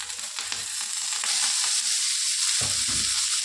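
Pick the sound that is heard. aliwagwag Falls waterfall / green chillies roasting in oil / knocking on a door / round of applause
green chillies roasting in oil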